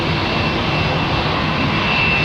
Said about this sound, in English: Suck a lot of air up, don't they, those XWBs, man.